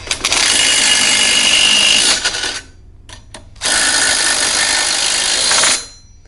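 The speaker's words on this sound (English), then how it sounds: "You would put those on the end right here, and you would tighten these up." Bolts being tightened with a power driver while fitting a swing away to a Harmar AL580 HDX lift: two sustained, loud whirring runs of about two and a half seconds each, separated by a short pause with faint clicks.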